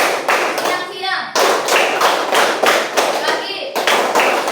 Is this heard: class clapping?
yes